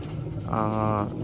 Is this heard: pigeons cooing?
yes